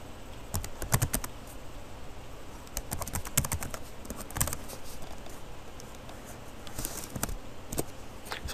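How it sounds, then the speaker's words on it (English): Computer keyboard keys tapped in quick bursts while account login details are entered, close and fairly soft, with short pauses between runs of clicks and no voice. "I'm going to go ahead and type my credentials in here."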